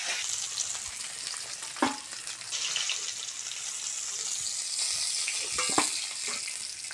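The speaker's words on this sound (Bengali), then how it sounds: "মাছের মাথাটা ভালো করে ভেজে নিয়েছি" A fish head fries in hot oil for a Bengali village dish, giving a loud, steady, broad sizzle with a couple of brief utensil knocks and bubbling bursts along the way; close up and uninterrupted by talk.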